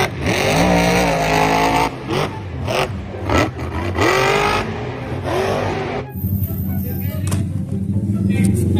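A toy race car's engine sound revs and roars in rising, falling bursts, loud and close, with voices talking over it before it fades to a quieter rumble.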